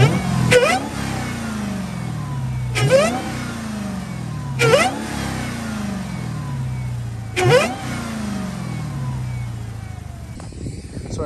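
Supercharged Dodge Hellcat Redeye V8 with its stock air intake, revved to about 4,000 RPM four times. Each sharp blip rises and then falls back to a steady idle rumble, loud and close, with no talking.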